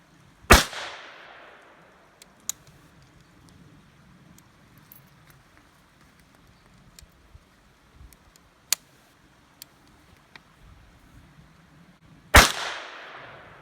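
Chiappa Little Badger rifle fired outdoors, two loud sharp cracks about twelve seconds apart with faint clicks and small handling noises between them.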